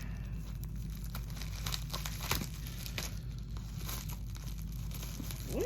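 A plastic package of beads being cut and opened, with soft steady crinkling and tearing rustles close by.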